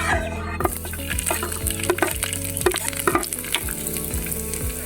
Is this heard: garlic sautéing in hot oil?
yes